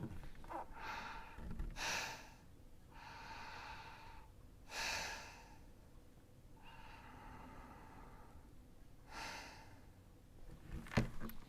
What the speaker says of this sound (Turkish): çeneni masaya koyarak yaklaşık bir dakika nefes alıp veriyorsun